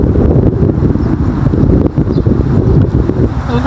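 Strong wind buffets the microphone outdoors, a continuous loud low rumble with gusting flutter throughout and no clear talk.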